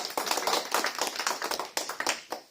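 A church congregation at a Sunday service claps in a quick, fairly regular rhythm, close and loud, with each sharp clap standing out briefly and no voices over it.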